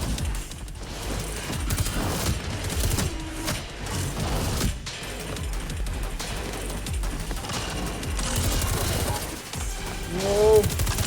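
Loud, dense combat noise from the Metal Eden VR shooter, with heavy blasts and mechanical clatter filling the stretch as a shotgun is fired, and a brief whooshing effect near the end.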